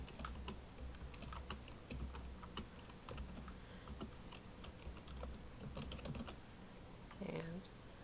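Keystrokes on a computer keyboard entering data into spreadsheet cells, a steady run of light clicks and taps throughout, close and moderately quiet.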